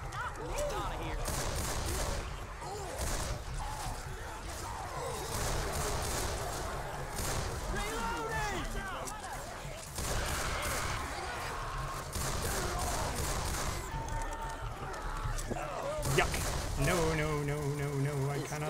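Rapid gunfire crackles continuously as survivors shoot at the Tank in Left 4 Dead 2, a dense stream of shots under frantic shouting voices and game sounds.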